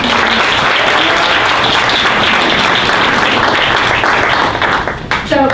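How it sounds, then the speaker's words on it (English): A conference audience at a talent and onboarding event applauds a speaker, a loud, continuous wash of many hands clapping that holds steady and then thins slightly near the end. "Applause for Matt from Monster."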